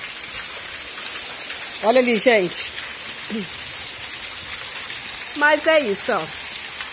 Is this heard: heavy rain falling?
yes